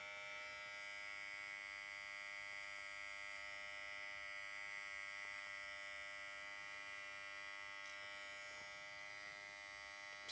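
Electric hair trimmer cutting over a comb during a tight fade haircut, a steady close buzzing hum that runs without a break, with no talking.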